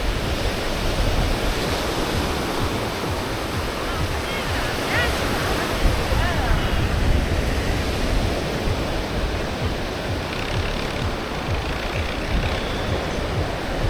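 Steady, broadband surf at Canasvieiras beach, waves washing continuously in a dense roar with no distinct breaks, heard fairly close and loud throughout.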